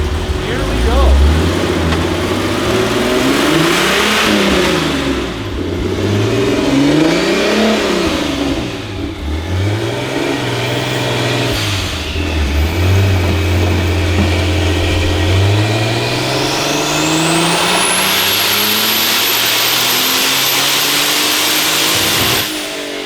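A 500-horsepower turbocharged BMW E34 engine revs hard on a dyno, climbing and falling through repeated pulls before holding a long rising high-rpm sweep, loud and close, with a turbo whine building near the end.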